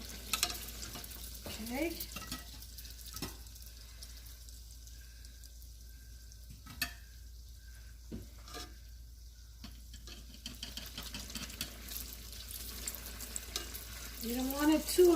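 Homemade filled doughnuts fry gently in moderately hot oil, giving a soft, steady sizzle like light rain, with occasional clinks and scrapes from stirring and a brief spoken word near the end.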